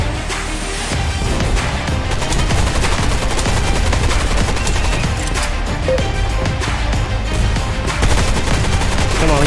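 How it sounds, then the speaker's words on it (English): Uzi fire in the VR shooter Gun Raiders: dense, continuous rapid gunshots and crackling impacts, loud and unbroken throughout with game noise layered beneath. "One Uzi challenge!"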